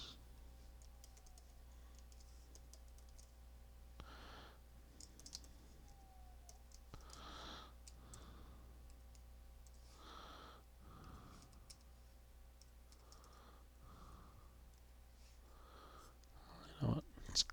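Keyboard typing and clicking while erasing lines of code, appearing as scattered short bursts of keystrokes with quiet gaps, fairly faint against a low steady hum.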